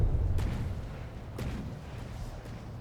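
Battleship guns firing at a target in a naval video game: two or three deep booming shots with rumbling tails over a steady low roar of background noise.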